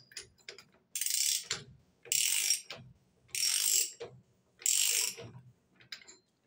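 A ratcheting tool tightens a left-hand-threaded nut while a holding tool locks the clutch center on a Bajaj Boxer motorcycle during clutch plate replacement. Four crisp, close bursts of rapid metallic clicking are separated by short pauses.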